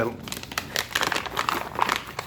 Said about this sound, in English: we have our accessory kit, which comes in a really nice foil lined gusseted bag